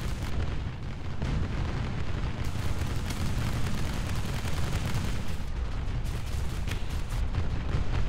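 Tank cannon fire and explosions in the video game War Thunder make a loud, continuous battlefield rumble, with heavier booms breaking through at intervals.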